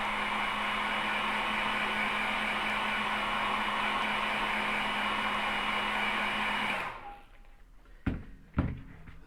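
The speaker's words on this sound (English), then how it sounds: "So I'm just going to quickly dry it off again." A hair dryer blows steadily over a watercolour painting for about seven seconds, a loud continuous whir that cuts off abruptly, followed by a couple of faint knocks.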